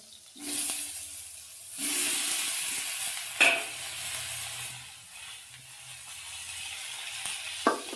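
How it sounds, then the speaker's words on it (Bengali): Oil hisses and sizzles in steady bursts as raw plantain pieces fry, with occasional louder crackles and clatter as pieces are turned; no voices. "এবার কাঁচা কলাগুলো কাঁচকলা ভেজে নেব"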